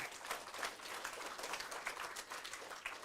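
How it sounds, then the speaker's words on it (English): A fairly quiet, steady round of audience clapping at the Courts OECS Reading Competition 2024, many hands patting together continuously with no voices rising above it. "Let's give Courts a round of applause."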